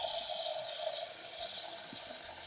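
Tap water runs steadily into a bowl in a kitchen while aubergines are prepared for cutting, a close, even rushing hiss throughout with no voices.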